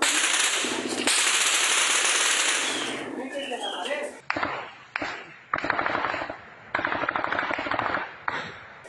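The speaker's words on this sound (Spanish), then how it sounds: "Agáchense porque aquí están pegando los tiros." Rapid bursts of gunfire crackle nearby, a sustained volley giving way to repeated sharp shots, with faint voices mixed in.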